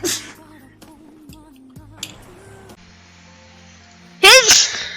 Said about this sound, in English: I just got my sneezes on.